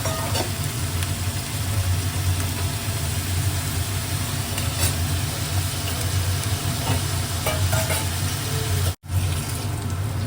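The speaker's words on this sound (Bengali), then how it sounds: "পেঁয়াজটা আমার প্রায় ভাজা হয়ে গেছে" Onions with a pinch of salt frying in a pan for a Bengali chicken liver dish, a steady close sizzle with scattered scrape-and-stir clatter and a low hum beneath, briefly cut off near the end.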